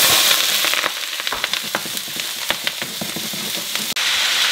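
Chopped onion hits warm oil in a wok while kung pao chicken is being made, setting off a loud, steady crackling sizzle with sharp popping spatters throughout, close up and free of talk.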